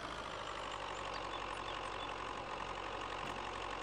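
Tractor engine idling in Farming Simulator 22, a steady, continuous mechanical rumble with a slight knock, held at an even loudness throughout with no speech.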